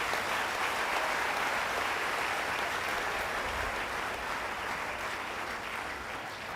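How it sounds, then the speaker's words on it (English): Newly admitted students at a university gathering applaud in a broad, even wash of clapping that sounds somewhat distant and fairly quiet, continuing unbroken with no speech over it. "I thought you will clap for yourself."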